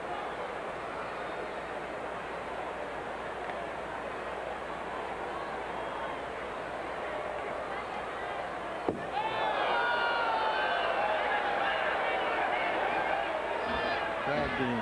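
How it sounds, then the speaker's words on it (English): A baseball stadium crowd at a Cardinals–Padres game rises from a steady murmur into a louder, swelling roar after a sharp crack, with a broadcast commentator talking over it. "Crowd getting excited about that one"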